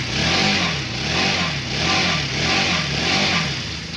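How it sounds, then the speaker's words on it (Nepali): A motorcycle engine revs repeatedly just after a cold start, its pitch rising and falling in steady waves about once a second, loud and close with no talking. "बाइक स्टार्ट गर्ने बित्तिकै बटार्नु चाहिँ हुन्थेन"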